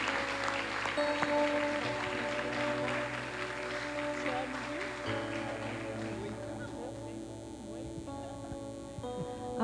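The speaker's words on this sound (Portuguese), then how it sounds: "Vamos aplaudir ao Senhor" A congregation at a Sunday church service claps steadily for about ten seconds over a sustained electrical hum, with a few voices mixed in and the applause slowly thinning toward the end.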